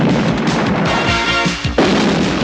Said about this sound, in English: Yes, there will be explosions.